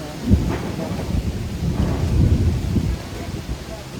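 Low rumbling thunder rolls through steady rain and wind noise, with a couple of louder booms early on.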